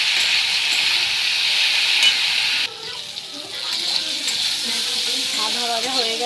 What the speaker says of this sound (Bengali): লবণ হলুদ দিয়ে আমি এটাকে ভালো করে ভেজে নেব